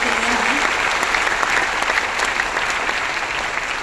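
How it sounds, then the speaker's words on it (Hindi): An indoor audience at a talk breaks into steady, dense applause, many hands clapping continuously and fairly loudly for several seconds without a break. "डॉक्टर लिम के लिए बहुत बड़ी ताली होनी चाहिए गैनोडर्मा देने के लिए"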